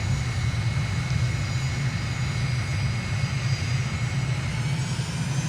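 Airliner engines in Microsoft Flight Simulator taxi off the runway, producing a steady, loud, continuous low rumble with a high whine. The sound holds even with no talk over it.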